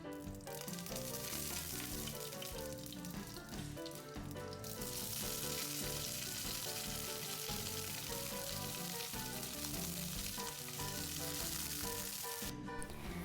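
Mustard seeds and curry leaves sizzle in hot coconut oil in a pan on the stove, a dense continuous crackle that stays loud and even throughout with no talking.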